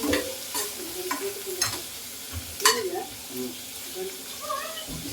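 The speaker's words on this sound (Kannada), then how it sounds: "ಅಲ್ಲೇ ಈರುಳ್ಳಿನ ಫ್ರೈ ಮಾಡ್ಕೋಬೇಕು" Onions frying in a pan for spinach chutney, a steady sizzle broken by repeated stirring scrapes from a spoon, close and fairly loud, with a voice talking now and then over the cooking.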